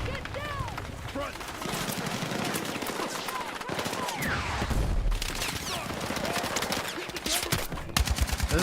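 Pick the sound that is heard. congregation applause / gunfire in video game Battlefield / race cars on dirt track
gunfire in video game Battlefield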